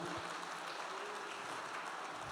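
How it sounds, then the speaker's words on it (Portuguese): A church congregation applauds together during a worship service, a steady wash of hand claps that fills the room evenly from start to finish at a fairly quiet level. "Aplauda o Senhor Jesus."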